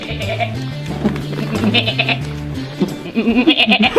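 Several goats bleat in overlapping, wavering cries close by at a farm milking parlour, with more calls joining toward the end amid farmyard bustle.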